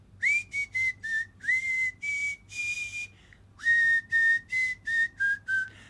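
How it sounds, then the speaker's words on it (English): A person whistles through a gap between the front teeth, producing a string of short, bright, slightly wavering notes in quick bursts, close and clear with nothing else heard. "So I learned to whistle like this."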